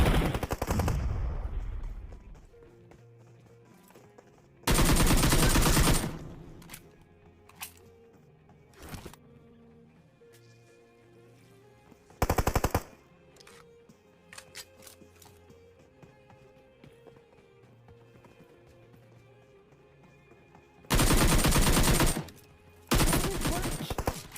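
Automatic gunfire bursts ring out during a fight in the video game Battlegrounds, several loud sustained volleys standing out against a busy game soundscape of music and effects.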